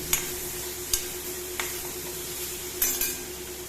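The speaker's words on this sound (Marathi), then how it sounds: "त्यात ही मीठ घातलेली अंबाडी घालून जरा परतून घेतली" Salted ambadi (gongura) leaves being sautéed in a pan, with a steady low sizzle and a few sharp scrapes and clinks of a spatula against the pan at irregular intervals, close and moderately quiet with no talking.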